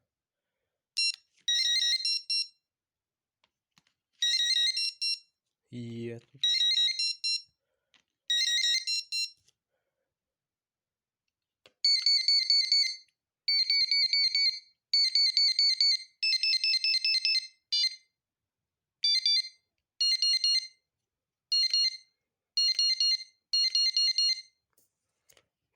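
HIRISI B1235 fishing bite alarms from China beep in short repeated bursts of high electronic tones, several rapid sequences with brief gaps, loud and close, plus one low buzz as the pager or vibration briefly sounds.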